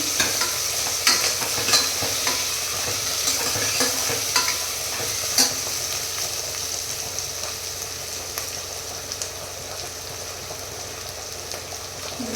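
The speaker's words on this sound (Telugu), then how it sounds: "తెల్లగడ్డలు అయితే బాగా దంచాం కదా అది స్మెల్ పోయేంత వరకు బాగా ఫ్రై చేయాలి" Crushed garlic frying in a pan, with a continuous close sizzle and frequent stirring scrapes and taps throughout, and no voices.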